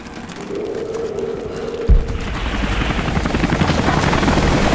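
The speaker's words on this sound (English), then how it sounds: "Helicopter." A helicopter in Rise of the Tomb Raider roars close, its rotor thumping louder after a sudden boom partway through.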